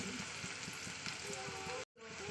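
Ginger-garlic paste, green chili, turmeric and salt fry in oil, a soft steady sizzle with faint stirring taps, close but low in level, briefly cutting out near the end.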